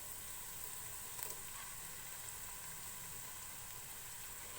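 Garlic ginger paste frying with golden brown onions in oil for a vegetable pulao, a faint, steady sizzle that holds level throughout with one slight stir.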